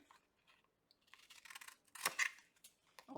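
Scissors trimming the edge of a paper collage journal page, heard close and quiet as a few soft snips and rustles with one louder cut near the end.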